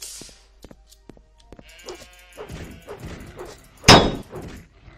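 Bleating goat cries from the game Morrowind, several wavering calls repeating over a few seconds, fairly close and clear with no talking, ending in a sharp louder burst.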